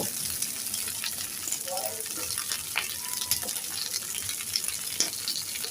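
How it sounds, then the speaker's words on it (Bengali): Okra frying in oil with a little salt while being stirred nonstop, a constant crackling sizzle up close with scattered light scrapes and clicks of the spatula, no voices. "এখন ঢেঁড়সগুলো দিয়ে দিলাম তো হালকা কিছু লবণ দিয়ে আমি অনবরত নেড়ে নেড়ে কিছুক্ষণ ভেজে নেব"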